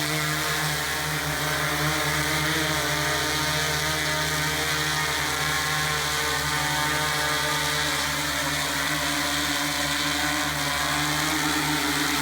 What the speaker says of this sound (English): It's a DJI Inspire 2.